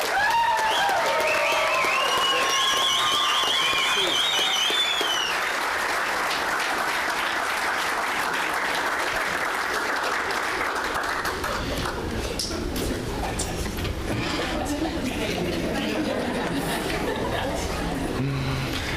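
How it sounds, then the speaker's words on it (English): Graduation crowd at a junior high ceremony applauds the class of 2023, sustained loud clapping with whoops and cheers and some chatter, thinning after about eleven seconds into quieter crowd noise. "let's give the class of 2023 a round of applause."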